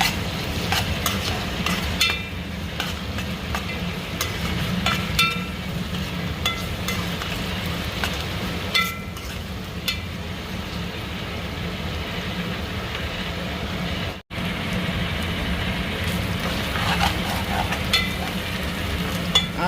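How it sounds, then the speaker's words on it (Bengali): Ginger-garlic paste frying in ghee with onions, bay leaves and spices, stirred in a pan: a steady close sizzle with scraping stir strokes running throughout, briefly cut off once before resuming. "আদা রসুনও ভালো করে ভাজা হয়ে গেছে"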